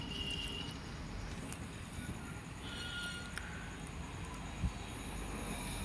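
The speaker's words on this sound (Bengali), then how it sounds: "তো চলে আসলাম এখন ট্রেনে করে" A passenger train runs on rails with a low, steady rumble and clatter of wheels, a soft high whine above it and one brief thump, heard from inside and fairly quiet.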